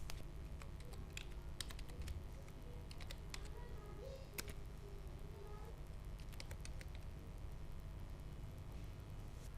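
Light, scattered keystrokes on a computer keyboard as a formula is entered into a spreadsheet pivot table, faint clicks in irregular bursts over steady background hiss.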